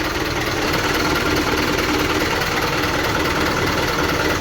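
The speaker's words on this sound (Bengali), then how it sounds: "গাড়ি এখন ঠিক করার পরে ইঞ্জিন স্টার্ট দিয়ে দিয়েছি" A bus engine idling after being repaired and restarted, a steady low rumbling drone with faint rattling vibration, continuous and close, with no voices.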